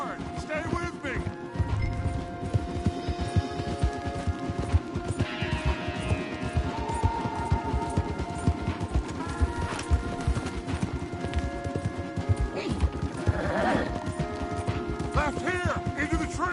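Horses gallop hard through the Red Dead Redemption 2 game world, their hooves drumming in a steady rapid rhythm that stays loud and close throughout, with game music and other effects layered underneath.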